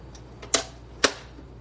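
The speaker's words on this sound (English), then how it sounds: "So I am trimming my paper down to" A paper trimmer slices a sheet of craft paper down to 11 by 11: two crisp, quick cutting snaps about half a second apart, close and fairly loud in an otherwise quiet room.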